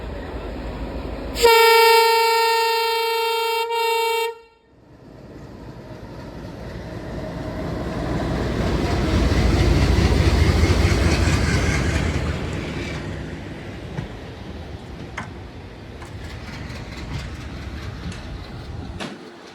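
Rameshwaram–Madurai passenger train departing Ramanathapuram: a loud horn blast sounds first, then the rumbling roll of the moving carriages swells and steadies, with a few faint clanks toward the end.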